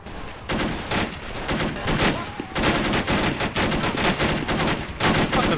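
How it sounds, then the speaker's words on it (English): Rapid bursts of gunfire and explosions from a Men of War: Assault Squad 2 five-versus-five battle, including mortar fire, crack loudly in dense repeated volleys throughout, with no talk over them. "A mortar already?"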